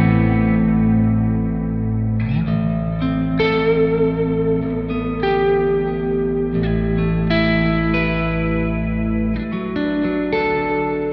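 Heavily distorted high-gain electric guitar chords through a Universal Audio OX with pedal reverb and delay ring out, each strum trailing into echoing repeats, loud and continuous with no talking.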